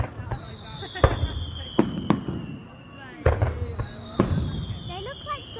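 Fireworks bursting over Cromer, England: several sharp bangs and crackles spaced a second or so apart, with a long whistling streak rising in between, while a child and adult chat nearby.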